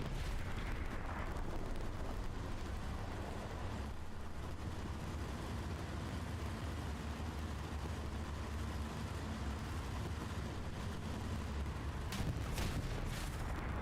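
Tank shells firing and exploding in Hell Let Loose during a tank-only match, heard as a faint, continuous rumble of distant blasts and engine drone, with a few sharper cracks near the end.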